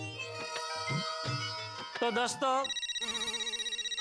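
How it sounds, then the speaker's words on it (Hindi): A mobile phone's electronic ringtone breaks into a loud, rapid warbling trill after a stretch of talk and musical tones, ringing close and clear in a busy household scene. "बबीता का फोन बजा है"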